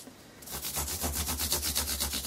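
Sandpaper rubs back and forth over guitar frets in a fast, even rhythm of close, gritty strokes that starts after a brief quiet moment.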